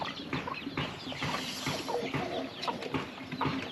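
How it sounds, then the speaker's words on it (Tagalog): A brooding female goose sitting on two eggs gives soft, scattered clucking calls close by, over a steady hiss of background noise with no talk. "ayun siya gansa natin may dalawang itlog"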